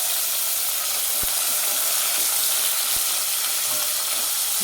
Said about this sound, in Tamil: 2 வெங்காயம் கட் பண்ணி சேர்த்துக்கலாம்.